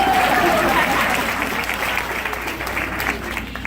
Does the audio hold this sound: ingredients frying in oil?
no